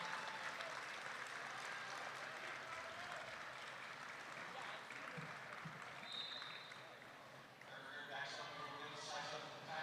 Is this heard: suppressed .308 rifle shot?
no